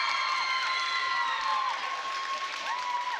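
An arena crowd cheers and whistles as a cheer team enters at a city cheer and dance championship, a dense, loud wash of shrill cheering that is sustained for a few seconds.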